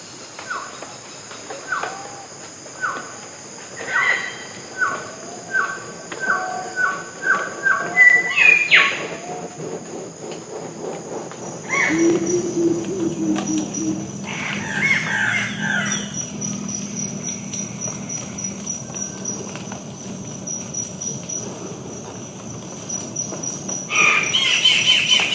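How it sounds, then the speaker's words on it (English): Pre-dawn rainforest on Halmahera fills with a constant high insect drone and rhythmic chirping calls, then birds call out at moderate distance over the buzzing chorus, with no voices present. "these were the sounds that greet you in pre-dawn and walking through the forest"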